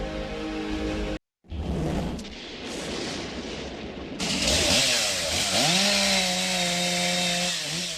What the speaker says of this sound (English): They took out their chainsaws and other heavy equipment to remove trees that fell all across the city.